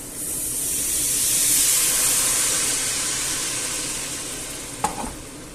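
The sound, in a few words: white wine added to sizzling pan of clams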